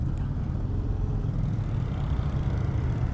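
An Indian Scout 101 motorcycle engine on a ride gives a steady, deep throaty rumble, close and continuous, with a broad rush of road and wind noise layered over it.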